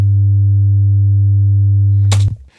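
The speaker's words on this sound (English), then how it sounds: "100 Hz sine wave, massive difference." A steady, loud 100 Hz sine tone sent through a reamping box, holding its pitch with faint harmonics, then cutting off abruptly with a brief click and noise at the end.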